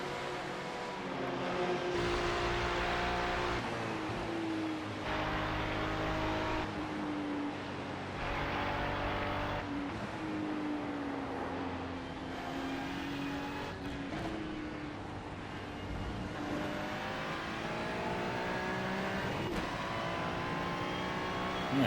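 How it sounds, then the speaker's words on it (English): A Porsche race car in a racing video game screams through repeated revs and upshifts, engine pitch climbing and dropping in cycles for over twenty seconds, steady and fairly quiet with no voices. "I'm gonna hit the little rev limiter there."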